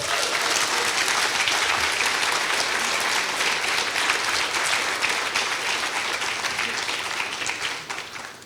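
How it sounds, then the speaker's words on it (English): Sustained applause from an audience at an awards ceremony, dense and steady throughout before thinning slightly at the end, with no voices over it. "Can we have another round of applause for the awardees that's been so far?"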